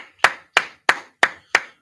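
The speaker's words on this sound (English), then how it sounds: "All right, clap it up, clap it up, clap it up, clap it up." Five sharp, evenly spaced claps ring out alone at a steady beat during a Houston history lesson by the Israelite School of Universal Practical Knowledge, each crisp and close, with silence between.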